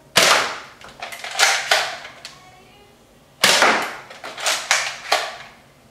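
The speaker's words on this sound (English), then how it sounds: "So right now we're just shooting at 3 6-round clips." A Nerf XD Strongarm blaster fires darts at targets, producing sharp, snappy pops that come singly and in quick pairs, with a brief lull between two clusters of shots.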